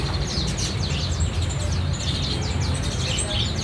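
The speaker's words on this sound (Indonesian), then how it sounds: "untuk stok jalak putih yang sudah dewasa" Adult black-winged starlings call at a busy bird market in Palmerah, Jakarta. Quick, repeated bright chirps and whistles rise over a constant low rumble of market noise.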